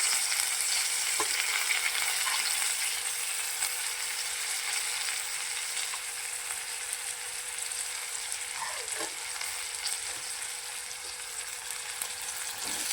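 Tomatoes and coriander frying in a pan make a steady, dense sizzle that runs without a break, with a few faint scrapes of stirring.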